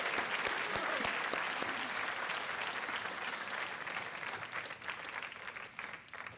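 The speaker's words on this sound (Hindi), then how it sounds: "तालियों के साथ इनका अभिनंदन" A studio audience on the KBC quiz show gives loud, sustained applause after a contestant wins a cheque, with a few clap bursts at the start and the clapping thinning slightly near the end.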